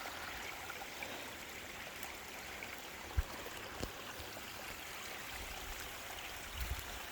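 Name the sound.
rainwater trickling down through a tree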